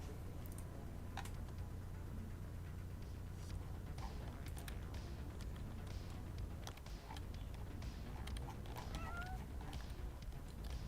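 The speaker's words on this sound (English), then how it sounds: "Kitty cat." A cat meows a few times, faint and intermittent against a steady background hum, with no one talking.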